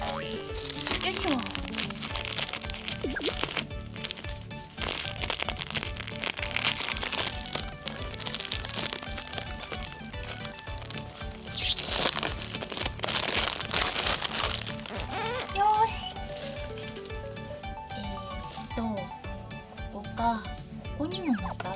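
Packing tape peeled and torn off a cardboard box holding a toy figure, crackling and crinkling strips with crunchy rips, close and fairly loud, repeated over the clip while a person talks and handles the box.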